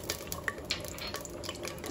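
Cloves and cardamom fry in hot oil with a soft, steady sizzle, broken by a few light metallic clinks and stirring scrapes in a quiet kitchen.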